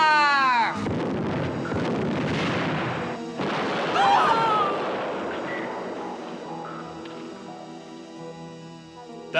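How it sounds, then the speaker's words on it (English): Cannon fire in the cartoon Dogtanian, with a loud boom and crashing burst that decays into a long rumbling tail, followed by a second blast that also fades slowly. "Dogtanian, give the order to fire."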